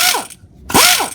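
A tool breaking loose the bolt on a GM AC compressor clutch: two short, loud whirring bursts with falling then rising pitch sweeps, separated by a brief pause, close up and with no voices.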